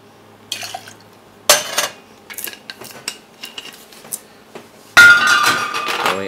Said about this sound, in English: Adding a bit of ice.